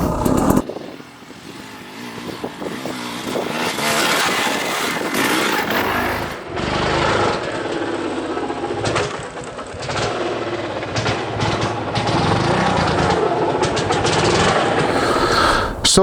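A KTM 300 enduro dirt bike engine runs loud and close in second gear, with a raspy two-stroke drone that rises and falls as the throttle changes throughout.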